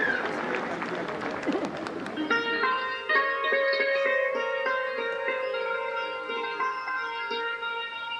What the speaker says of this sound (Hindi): जोरदार तालियां स्टेडियम के हर तरफ से, स्टेडियम के हर हिस्से से, हर पार्ट से, हर भाग से जोरदार तालियां इस लम्हे के लिए